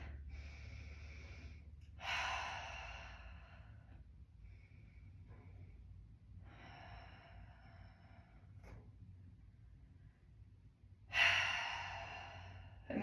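Slow breathing during a yoga session in mountain pose: three long audible breaths, each a soft airy exhale or sigh spaced several seconds apart, close and gentle over quiet room hum.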